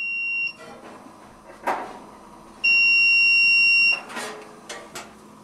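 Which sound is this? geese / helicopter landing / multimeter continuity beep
multimeter continuity beep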